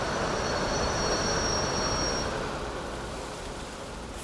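Brakes squealing on a Class 127 diesel railcar in a railway simulator game, a steady high-pitched squeal over broad rumbling wheel and track noise that fades out partway through.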